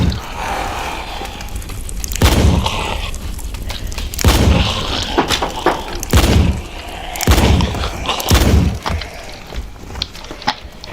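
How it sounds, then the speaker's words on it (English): A trench gun fires in the voxel demolition game Teardown, giving several heavy booms spaced a second or two apart, each followed by crunching, splintering debris. "I'll hit the trench gun."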